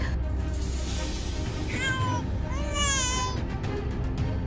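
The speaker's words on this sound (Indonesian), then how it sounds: "Ada suara bayi." An infant cries far off, two wavering wails rising and falling over a steady wash of background noise, faint and partly masked.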